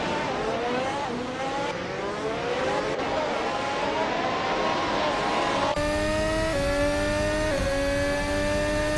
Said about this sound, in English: Wooden Cross is currently in 5th place, driving a 2022 AlphaTauri T03